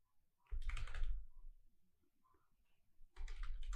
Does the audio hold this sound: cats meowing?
no